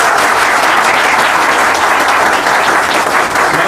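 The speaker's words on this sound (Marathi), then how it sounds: "याच्यासाठी चांगल्या एकदम कडकडून टाळ्या झाल्या पाहिजे" Loud, dense applause from an audience celebrating exam results fills the room, a steady wall of clapping with no pauses.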